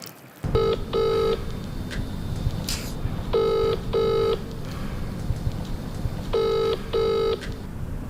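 A phone rings during an unanswered call, three evenly spaced double-burst rings, each a pair of short electronic trills, over a steady background hiss without speech.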